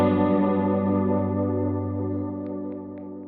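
Electric guitar chord ringing through a UAFX Starlight Echo Station stereo delay with vibrato, a sustained wavering tone with lush repeats that slowly decays, with a few faint plucked notes near the end and no talking.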